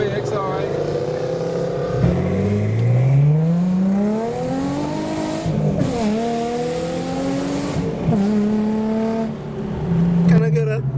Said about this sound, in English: we are behind the insanely loud Cobra SVT Mustang